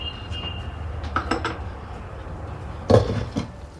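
A pot of jackfruit being cooked for biryani is stirred and covered, producing a few light metallic clinks followed by one louder clank of a lid settling, close by and without speech.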